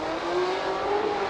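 A Nissan Silvia S15 drift car on Nitto tires, running in Formula Drift qualifying at Long Beach, holds a steady, high revving engine note that climbs slightly, loud and sustained, with no voices.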